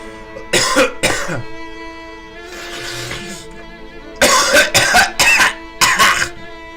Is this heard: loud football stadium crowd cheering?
no